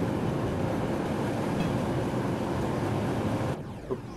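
A train rumbles steadily in Train Simulator 2017 on the Köln–Koblenz line as it slows for a low speed limit, a broad continuous roar that drops off sharply near the end to a quieter hum.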